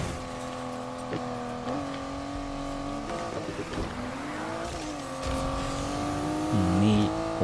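Buick Grand National launching hard at the Sonic test track in Need for Speed Heat, a steady engine drone with shifting pitch as it accelerates, tire noise building toward the end, continuous and loud with no talk over it.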